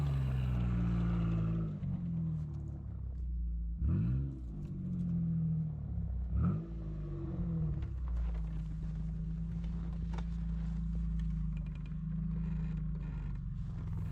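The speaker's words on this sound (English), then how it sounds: "Do not mind this rattling noise, it's coming from front left CV axle." A Mitsubishi Pajero's front left CV axle rattles during a climb on frozen sand, under a continuous close engine drone that swells and dips in pitch twice, with no talking.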